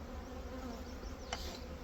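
Honey bees buzzing steadily around a hive where a new queen has been caged for three days, a continuous close drone with no voices.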